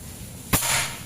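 A single sharp air rifle shot from a Black AWM Mini PCP rifle with 30 cm seamless barrel at 2700 psi, a crisp close crack followed by a brief ringing tail, alone in a quiet setting.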